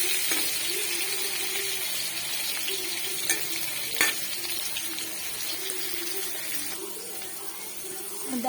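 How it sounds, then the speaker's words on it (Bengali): Pointed gourd pieces frying in a pan with salt and turmeric give a steady, close sizzle throughout, with stirring scrapes and a few sharper clacks of the utensil against the pan. "দিলাম লবণ, হলুদ দিয়ে পটলগুলো ভালো মতো ভেজে নেব।"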